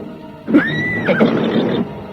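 A horse whinnies once in a loud, drawn-out neigh that rises and falls over about a second, with shuffling and faint hoof movement around it, heard close and without talk.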